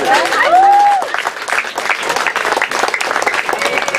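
An audience claps together in a sustained burst of applause that stays loud throughout, with a brief whistle near the start and a mix of crowd noise underneath.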